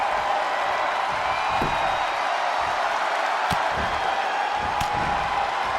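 Raucous arena crowd at a televised wrestling event, a continuous wash of cheering and applause with a few sharp slams and whoops popping out of the roar, no clear talk.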